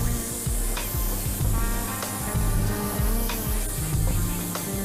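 Broccoli and corn tossed together in a hot pan, a steady close sizzle and hiss with scraping, rubbing stirs repeating irregularly throughout.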